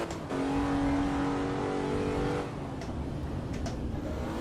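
Engine note of a car in the racing game Assetto Corsa EVO, a loud steady drone with a rising rev tone that settles after a couple of seconds, continuous throughout with no talk.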